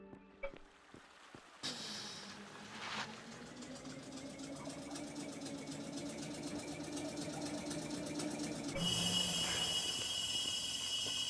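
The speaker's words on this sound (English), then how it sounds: "Let me bring the truck down here." Truck engine in the video game Eco starts up and runs at a steady mid-pitched drone, rising slightly in pitch and growing a little louder over several seconds, with a brighter mechanical whine near the end.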